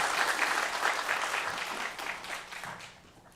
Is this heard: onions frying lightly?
no